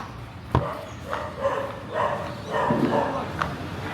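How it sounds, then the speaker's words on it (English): Stray dogs bark on a night street in Ranong City, Thailand: a sharp near yelp, then a run of scattered barks and yips at moderate distance over steady street noise. "Dogs run this place, man."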